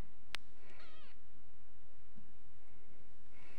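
Small kitten crying out with a short series of thin, rising meows, close and fairly clear, over a steady low hum with no talking.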